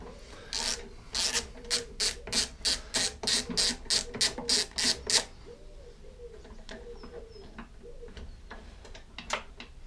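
A ratchet loosening a 10mm bolt on a Masport lawnmower: a steady run of about a dozen crisp, evenly spaced clicks close by, then a few scattered faint clicks and light handling.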